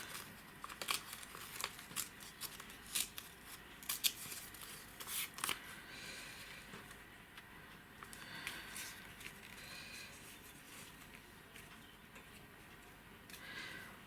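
Scissors snipping and paper tearing while cutting a printed image for a mixed-media collage, with close, irregular crisp clips and rustles in the first half, then softer, steadier paper handling.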